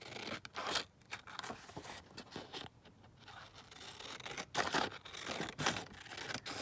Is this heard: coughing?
no